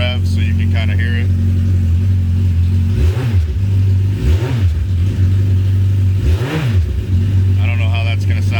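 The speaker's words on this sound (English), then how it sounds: "I'll give it some rev so you can kind of hear it." Trike engine idling close by with a steady low rumble, blipped three times into rising and falling revs, while a person talks briefly at the start and end.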